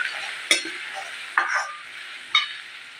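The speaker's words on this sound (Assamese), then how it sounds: "এতিয়া এচামুচ ৰং গুড়া দি এইখিনি ভালদৰে লৰাই ল'ম।" Cumin and chili powder stirred in a hot frying pan, with a steady close sizzle broken by three sharp spoon scrapes at even intervals, no voices.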